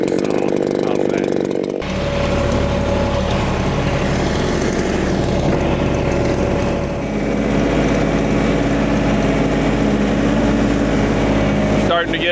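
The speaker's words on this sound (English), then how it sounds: "CS7310P, my new favorite work saw." A ported Echo CS7310P chainsaw cuts firewood logs, running loud and close with a steady high-revving engine whine that deepens as the bar bites into the wood and holds at full throttle throughout.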